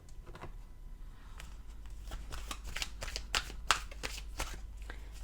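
Oracle Belline cards shuffled by hand, a run of crisp riffling and flicking bursts that grow louder toward the end, close and alone without talk.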